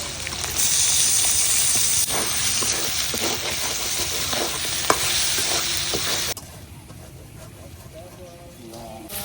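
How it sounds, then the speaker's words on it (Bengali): Hilsa that has been salted is frying in a pan with onion and garlic that have been browned deep red. For the first six seconds a loud, steady sizzle and hiss runs under stirring clatter, and it then drops to a quieter bubbling fry. "পেঁয়াজ রসুনটা যে একদম লাল করে আমি ভাজে নিচ্ছি, এখন দিয়ে দেম ইলিশ"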